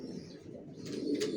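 Young racer pigeons in a home loft coo in a steady, low, continuous murmur close by, with no voices.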